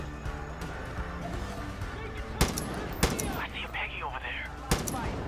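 Gunfire rings out during a defensive fight in the video game Far Cry 5: a dense, continuous fusillade with several sharp, loud shots standing out over the steady barrage.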